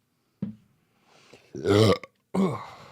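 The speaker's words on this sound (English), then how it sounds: "the burps don't taste too good" Several close, loud burps in quick succession: a short one, then a long, drawn-out belch, and a final one, with silence between.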